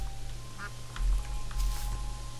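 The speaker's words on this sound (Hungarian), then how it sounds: "Itt egy kacsa." Cartoonish duck quacks from the video game Terraria, a few short calls over a steady hum of game music and background tones, moderately loud.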